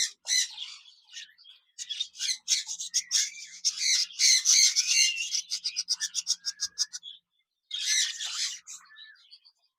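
Caged pet lovebirds and budgerigars call in a dense run of shrill chirps and squawks, a near, busy chatter that pauses briefly before another burst of calls.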